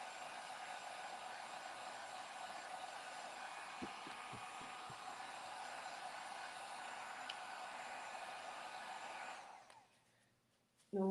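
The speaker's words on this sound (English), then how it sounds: "I'm going to blow some cool air on this" A dryer blowing cool air gives a steady, even whoosh for about nine seconds, then shuts off into near silence.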